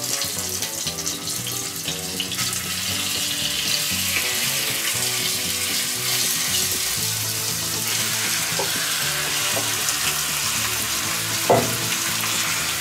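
Turkey meat searing in a pot over charcoal, a steady loud sizzle and crackle of frying that runs throughout with occasional stirring clinks, no one speaking.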